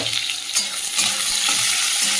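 Onion and garlic sizzle in hot fish oil in a pan, a steady close frying hiss with occasional stirring scrapes throughout, no voices.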